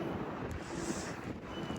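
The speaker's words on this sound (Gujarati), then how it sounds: "બહુ જ પવન છે ગાઈઝ, તમે જુઓ તો કેવો થોડો મોકલાવું પવન." Strong outdoor wind buffets the microphone in a steady, low, rushing rumble that stays fairly faint throughout.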